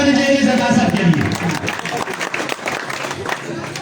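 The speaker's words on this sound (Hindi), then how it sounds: "तालियां होनी चाहिए सरदार साहब के लिए" Applause from a crowd at a tape ball cricket tournament prize distribution ceremony for the Sangam Premier League, loud and continuous throughout, with voices mixed in.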